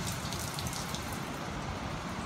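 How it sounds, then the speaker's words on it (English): Steady rain falls on a windy beach in Western Australia, making a dense, constant hiss with closer patters on nearby surfaces. No voices are heard. "It's raining."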